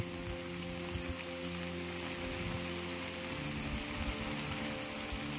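Rain pours down steadily around a house during a typhoon in the dark early morning, a dense, even wash of drops on surfaces, close and unbroken, with no talking.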